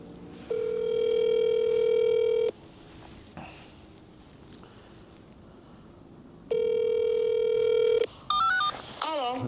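Telephone dial tone during a call to an employer about work, two long steady tone bursts separated by quiet, then short dialing beeps at the end.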